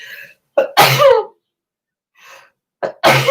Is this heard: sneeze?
yes